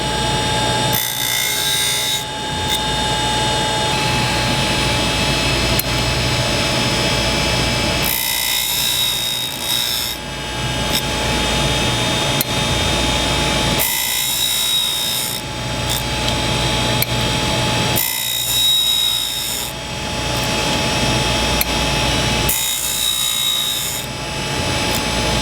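Cutter grinder wheel sharpening a carbide insert, a loud steady motor whine with grinding contact rising and falling in repeated passes every few seconds, no talking.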